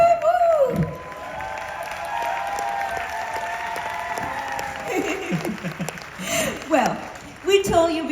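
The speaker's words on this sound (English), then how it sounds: "Big round of applause for Arthur." Audience applause and cheers at an event at Disneyland Paris, with whoops and voices, run under a speaking host and some music, rising in bursts toward the end.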